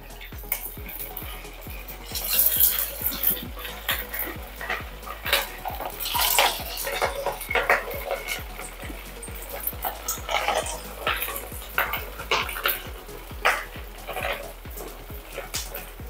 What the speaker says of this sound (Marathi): आता आपल्याला हे तळून घ्यायचे तेलामधून